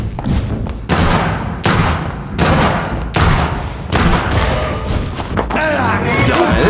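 Heavy gunshots from the vampire game Vampyr boom in a repeated series about once every 0.7 seconds, loud and close over a dense, rumbling game soundtrack.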